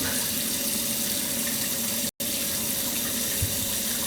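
Water runs steadily from a faucet into a sink with a constant hiss and gurgle, broken by one abrupt instant of silence midway.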